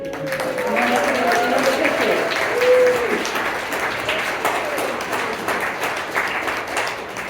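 Audience applause for a volunteer awardee at a volunteer appreciation dinner, a steady roomful of clapping hands with brief voices and a whistle-like tone near the start.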